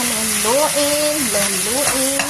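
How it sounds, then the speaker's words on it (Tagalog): Garlic sautéing and being stirred in a pan for chicken adobo, giving a loud, steady sizzle with a voice sounding over it throughout. "Ngayon nilagay na natin kasi mabango na ating bawang"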